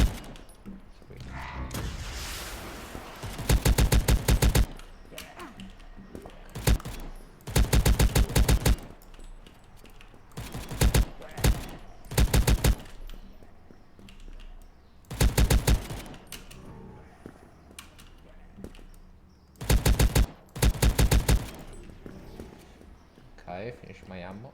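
Video game gunfire: repeated loud bursts of rapid automatic shots in short clusters spread across the span, with quieter game sounds and someone talking between bursts.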